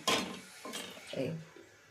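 A cooking pot set down on the stove before oil is added for tempering, a few close metallic clanks and clinks of pot against metal, the first strongest, with faint voice around them.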